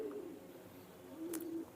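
KTM teddy pigeons give soft, low cooing calls in a steady murmur close by, rising a little louder near the end, with no talking.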